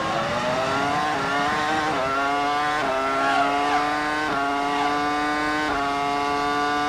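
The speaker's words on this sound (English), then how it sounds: "Let's have a listen to this BMW engine." A high-pitched BMW Formula One engine screams past at the 2002 Canadian Grand Prix in Montreal, its pitch climbing through several quick gear changes, loud and steady with no talking.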